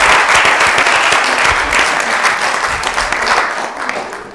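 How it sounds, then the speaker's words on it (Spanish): An audience applauds a future Armed Forces minister at a talk on disability values in business leadership, with dense, steady clapping that stays loud and sustained throughout before easing slightly at the end. "Un aplauso para la futura ministra"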